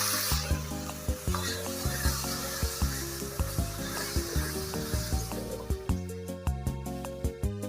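Cumin, chili and turmeric spice paste sizzles and fries in a pan with a little water while being stirred, a steady crackle over rhythmic music with no talking.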